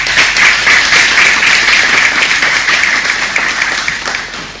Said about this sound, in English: I wish you'd give them all a quick round of applause.